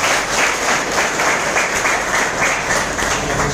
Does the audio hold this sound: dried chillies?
no